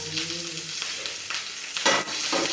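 Onions frying for chow mein, a steady broadband sizzle in a pan with a few stirring scrapes and louder bursts of spitting, close and with no voices.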